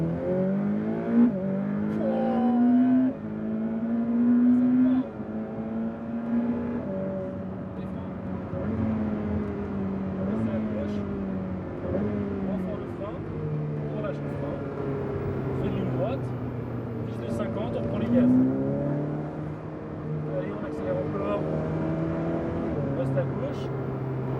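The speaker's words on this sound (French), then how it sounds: "Allez, ligne droite, au plancher." A car accelerates flat out down a track straight during a driving course. The loud engine note climbs repeatedly and drops at each gear change, with a voice talking over it.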